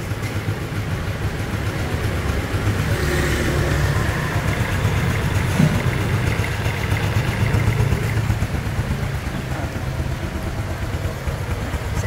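A 2015 Honda Super Dream motorcycle with a black exhaust runs steadily at close range, its engine holding a continuous low idle-like drone with slight swells and no talking over it.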